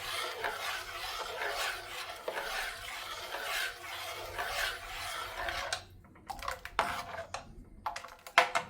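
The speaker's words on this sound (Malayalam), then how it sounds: "ഇത് നമുക്ക് ഇളക്കിക്കൊണ്ടിരിക്കണം" Carrot halwa is stirred in a pan with a spoon, scraping and rubbing in a continuous close rhythm, then breaking into a few sharper knocks and clinks near the end.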